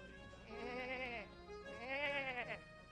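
A goat gives two wavering, nasal bleats in quick succession, each about a second long, fairly close but not loud, with no talk over them.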